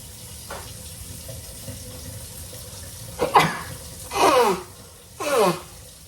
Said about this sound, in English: And it made me do the same thing I'm doing now, sneeze.